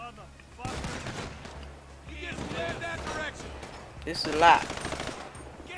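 Rapid gunfire rattles through a GTA V Boneyard survival wave, with dense overlapping shots and bursts mixed into game noise, and a voice talking over the action.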